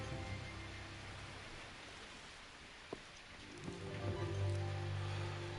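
Rain falls outside in a steady, faint hiss, with a low hum underneath and a couple of soft knocks.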